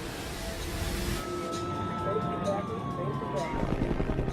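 Emergency sirens wail at the burning wreck of a DC-10 air crash site as ambulances and helicopters evacuate survivors, rising and falling steadily over a dense background rumble with voices faintly mixed in.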